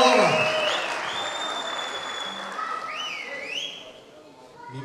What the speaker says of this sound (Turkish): Güçlü bir alkış olsun efendim